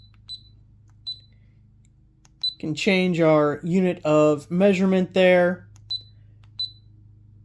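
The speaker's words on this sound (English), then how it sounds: "turn off that beep if you're not a big fan of hearing the beep every time you hit something" Short electronic beeps from a Mileseey Xtape1 laser tape measure, several sharp isolated chirps sounding before and after a stretch of close-up talk.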